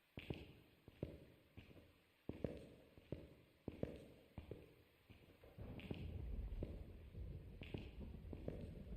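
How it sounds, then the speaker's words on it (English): Footsteps in the Phasmophobia ghost-hunting game, a series of soft, evenly spaced thuds fairly close by, later blurred under a low rumbling background. "Yeah, I thought I heard footsteps there for a second."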